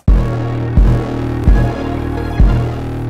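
Deep 808 bass notes collapsed to mono by a stereo separation tool, four heavy booming hits with long sustaining tails, loud and close with no voice.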